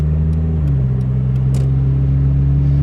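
Ford Probe engine rumbling steadily while driving on the road, with a shift in tone and pitch early on as the gear changes, loud and continuous.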